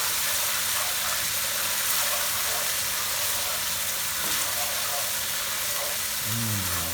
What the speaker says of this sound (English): Let coconut milk simmer.